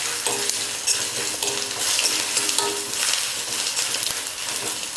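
Peeled garlic cloves and asafoetida sizzling in hot oil in a pan for a potato fry, a steady bright crackle with occasional stirring scrapes throughout, close and fairly loud with no voices.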